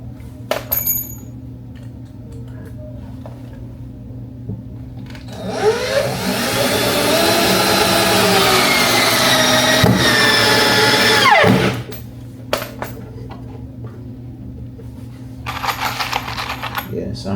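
A power tool drives 2-inch screws into the base of a salon hair wash bowl in one sustained six-second whirring run that winds down at the end, with scattered clicks and handling sounds before and after.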